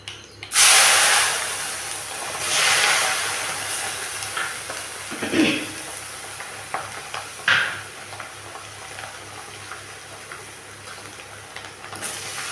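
Small shallots and garlic sauté in oil for pepper kara kuzhambu, a close steady sizzle broken by loud splashy bursts as ingredients hit the pan, plus scattered stirring and clinks of utensils against the pot.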